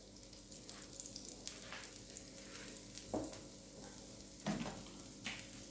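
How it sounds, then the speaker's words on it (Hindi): Aloo lachha paratha roasting in a little oil over slow heat on a pan gives a faint, steady sizzle, broken by a few soft scraping stirs and crackling bursts, with no voices. "तो इस पे थोड़ा सा ऑयल डालते हैं, बिल्कुल स्लो हीट पे रोस्ट कर रही हूँ"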